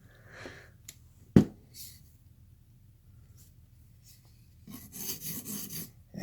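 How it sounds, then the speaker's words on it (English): Knife edge being sharpened toward the tip while repairing chips and edge damage, a few short rasping strokes, close and soft, with a sharp tap between them and a louder burst of scraping at the end. "I'm sharpening from here to the tip to keep the belly intact"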